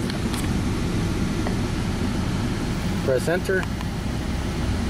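A car engine idles steadily with its high beams and heater blower switched on, a continuous low rumble and fan hiss running throughout while a voice speaks briefly near the end.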